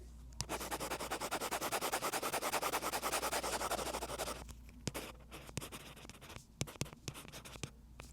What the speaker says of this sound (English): let me see if I can share with y'all how my Remarkable Paper Pro sounds like